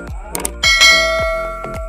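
A bell-style notification chime rings out in several bright, metallic dings, with a louder cluster of overlapping strikes in the middle that rings on and decays, close and clear with no talking.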